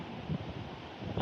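Wind gusts at a campsite in Tagaytay, a steady, moderately loud rushing that swells near the start and again at the end, with no one talking.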